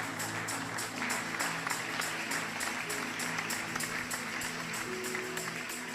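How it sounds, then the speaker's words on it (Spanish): A church congregation claps continuously and evenly in a hall, with a sustained musical tone underneath the steady applause. "Un aplauso fuerte al Señor."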